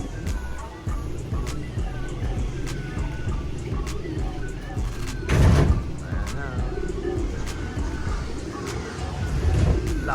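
Pigeons coo repeatedly outdoors, close by, their soft rolling calls running steadily, with a few chirps, a brief louder burst of movement and a voice talking now and then.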